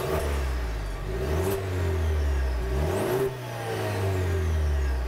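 A 2020 Cadillac CT4's 2.7-liter turbo engine accelerates through a 10-speed transmission, revving up, dropping at a gear change and climbing again, heard steadily from close by with no talk.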